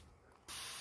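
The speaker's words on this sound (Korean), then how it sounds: "스프레이를 뿌리는데" A can of Nubun spray bursts into a loud, steady hiss after a brief quiet moment, close and continuing to the end without pause.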